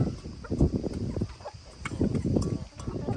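Kadaknath chickens cluck continuously nearby, overlapping bursts of clucking and soft calls from several birds, fairly loud and with no talk.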